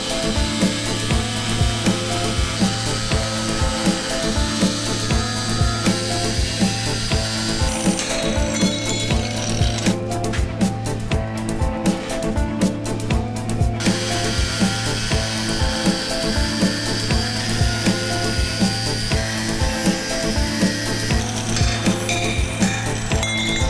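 A modified winch driven by a low-cost gear motor runs continuously, giving a steady mechanical whir with rapid, regular ratcheting clicks throughout.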